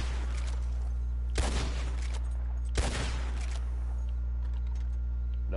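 Two sharp gunshots while hunting pronghorn in Red Dead Redemption 2 Online, spaced a little over a second apart, cutting through a steady low background hum.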